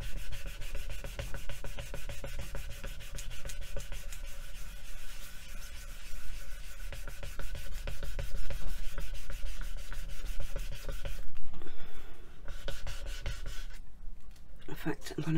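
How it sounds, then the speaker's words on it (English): Steady rubbing as a surface is burnished by hand, a close, continuous scraping friction with an even back-and-forth rhythm lasting throughout, briefly pausing near the end. "give this a good burnish"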